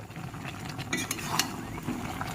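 Raw mango pickle with spices is stirred and fried in a pan, a steady soft sizzle broken by scraping and clinking of a spoon against the metal.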